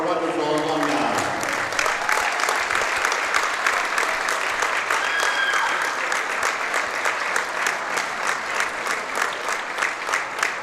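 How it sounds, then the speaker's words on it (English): Loud crowd applause rolls through a high school gym during a varsity girls basketball game, a dense steady wash of clapping with a voice over the public address at the start. "Please join me in a round of applause for our wonderful alumni."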